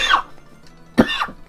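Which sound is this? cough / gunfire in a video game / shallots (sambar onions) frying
cough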